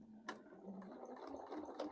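A sewing machine stitches through fabric for a 12-inch sheep quilt block, a soft mechanical whir with a faint rhythmic ticking, quiet and steady with no voices.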